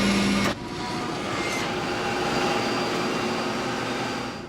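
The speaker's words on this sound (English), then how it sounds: "Then there was kind of a grinding noise." A grinding noise rumbles aboard a United Airlines airliner in a reenactment of Flight 811, a steady loud mechanical roar with cabin drone that follows a brief tone at the start and runs unbroken to the end.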